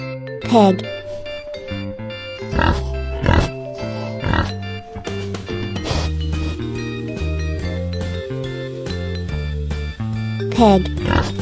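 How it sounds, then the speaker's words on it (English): Pig oinks from a children's farm-animal names and sounds lesson, heard as a few short grunting calls over a steady musical backing, with a voice speaking the animal names between them. "Pig."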